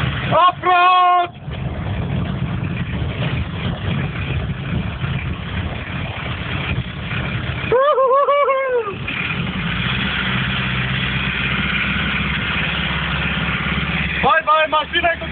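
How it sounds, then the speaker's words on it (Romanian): A rear-wheel-drive car engine drones steadily while the car slides around off-road, loud and continuous under frequent shouting voices. "mașina cu tracțiune în spate, mi-alunecă curul! Abia reușesc să o țin"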